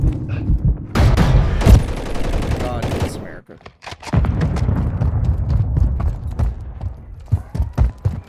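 Gunfire in Call of Duty: Modern Warfare III, with bursts of rapid shots and sharp impacts between quieter stretches, while players talk over much of it.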